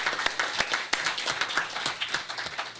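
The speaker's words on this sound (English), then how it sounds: "round of applause" Applause at a city council meeting: scattered hand claps with a few sharper individual claps standing out, moderately loud and fairly close, no voices over it.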